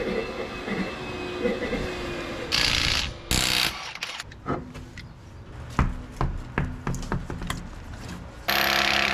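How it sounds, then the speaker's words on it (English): Irregular metallic rattling and clunking from a Nissan 200SX, worsening, over a constant road rumble, with bursts of louder rushing noise in between. "This weird rattling noise that seems to be getting worse"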